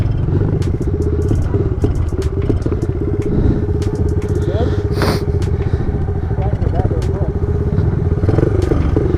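A Yamaha Trimoto YT175 three-wheeler runs out of fuel, its single-cylinder engine chugging roughly and unevenly up close, sputtering and faltering while riders talk over it.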